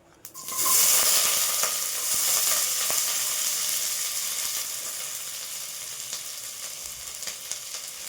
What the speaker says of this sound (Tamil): இப்போ இதெல்லாம் போட்டுட்டோன்னே நம்ம வதக்கலாம்.